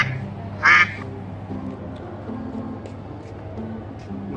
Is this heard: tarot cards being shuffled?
no